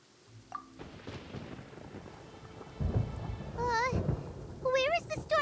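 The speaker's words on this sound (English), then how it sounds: "Paimon hears thunder!" Thunder rumbles over rain in Genshin Impact, a low rolling boom building midway through a steady downpour, with a voice speaking and some musical chimes near the end.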